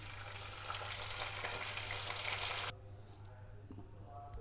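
Whole spices tempering in hot oil in a pan sizzle loudly and steadily for about three seconds, then the sizzle drops to a quieter, softer crackle with a faint stir.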